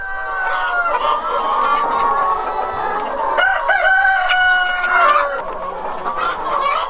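Hens cluck in a steady chorus on an animal-welfare-certified farm with perches and a floor of soil, rice husks and sawdust, while a rooster crows over them partway through; the flock is close and loud.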